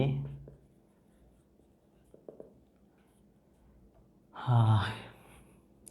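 Pen or chalk writing during a university physics lecture on one-dimensional motion, heard as faint scratchy strokes through a quiet room, with a short louder voice-like burst near the end.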